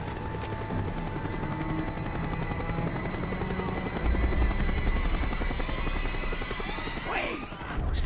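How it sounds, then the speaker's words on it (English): Helicopter from the video game Call of Duty: Black Ops flying steadily with a loud continuous rotor thrum and whine, growing heavier midway, with a brief sweeping pass near the end. "The chopper is coming around again."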